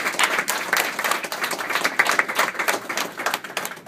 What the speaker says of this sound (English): So everybody give them a warm round of applause